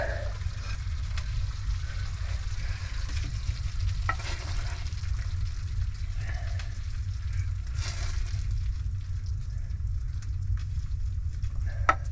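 Food sizzles steadily in a frying pan on a stove inside a dugout bunker, a continuous crackling hiss with occasional louder pops and clinks of a spoon stirring.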